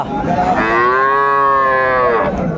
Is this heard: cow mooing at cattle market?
yes